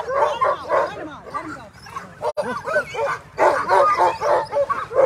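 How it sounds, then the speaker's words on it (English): Sled dogs bark, yip and whine in a dense, continuous chorus at the start of the Willow sled dog race in Alaska, with people talking close by throughout. "Look at how strong and big that lead dog is."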